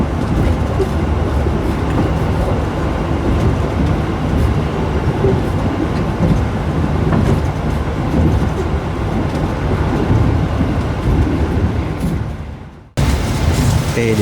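An Argo Muria executive train on the night run from Jakarta to Semarang rumbles steadily and loudly throughout with a dense, continuous roar, then cuts out sharply near the end before resuming.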